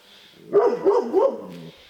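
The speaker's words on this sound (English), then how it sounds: "That's a dog." A dog barks three times close by during a thunderstorm at a home gym, with a quiet hiss of rain behind and no one talking.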